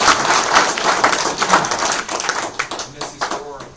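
An audience at a visitors' day gathering claps in a round of applause, dense patters of hand claps fading out toward the end, with a voice speaking over it.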